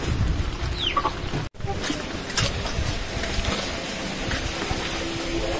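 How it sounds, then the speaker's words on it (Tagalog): Backyard chickens in the Philippines cluck and call softly amid steady outdoor background noise, with a brief cutout early on. "Ayan po yung mga alagang manok ni kuya."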